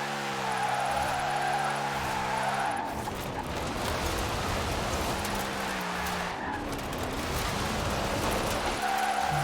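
A car in Forza Horizon 4 drifts with a steady engine drone, then rough, continuous tire skid noise through the turn before the engine tone returns, loud and close with no talking.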